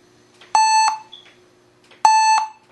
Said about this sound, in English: you should hear a couple of beeps and you should see the LEDs for the power button come on